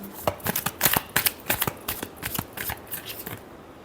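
Tarot cards are shuffled by hand in a quick run of crisp riffling bursts, close and fairly quiet, each flurry of snapping card edges followed by a short pause.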